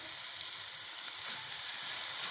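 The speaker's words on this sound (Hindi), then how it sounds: "अब मैं इसके अंदर जो है वो दही डाल रही हूँ, आधा कप।" Mutton keema fries with softened tomatoes and half a cup of yogurt, making a steady, close, even sizzle with no talk.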